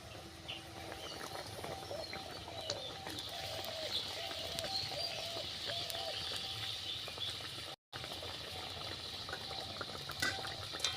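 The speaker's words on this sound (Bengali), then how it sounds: "এখন ঝোলটা ফুটে গেছে" Pabda fish curry gravy boils in a pan with a steady, soft bubbling and simmering hiss, fairly faint and continuous, with a brief dropout partway through.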